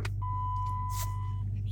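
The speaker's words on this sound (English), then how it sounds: "I'm sure you heard the beep, it's just a tire light" A car's tire pressure warning chime sounds at startup as a single steady electronic tone lasting just over a second, clear above a low engine-like hum.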